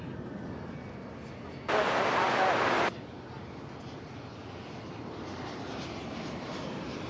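Mesa Airlines regional airliner operating as American Eagle passing at DFW Airport in poor visibility, a steady distant engine drone under a man's speech, with a brief louder burst of noise partway through.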